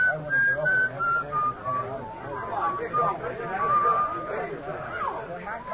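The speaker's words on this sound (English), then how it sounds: "And then I remember I've been hearing that whistling right along and didn't notice it." A person whistling a simple tune in an old radio drama, with clear sliding whistled notes mixed into a busy background of voices and indistinct chatter, lo-fi and moderately loud.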